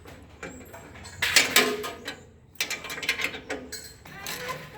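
A ratchet tightening the top bolts on a New Holland BB940A baler pick-up, two close bursts of rapid clicking pawl ratcheting separated by a short pause.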